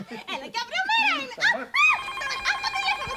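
A telephone rings indoors, a bright warbling electronic ring repeating through the latter half, overlapping lively, animated speech that sounds at the start.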